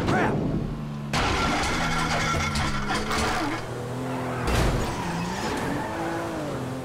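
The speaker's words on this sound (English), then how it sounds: "That's the engine, man." Car engine starting and revving in the video game GTA 5 during a chase mission, a loud mid-pitched drone with a sharp jump near one second and another surge later, under shouting and game action.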